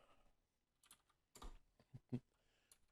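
Quiet typing on a computer keyboard, a few scattered keystrokes and short bursts with gaps between them, close and alone with no talk.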